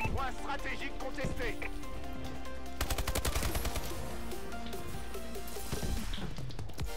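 Insanity gun from Call of Duty: Advanced Warfare firing rapid bursts amid dense game music and effects, with people talking over the action.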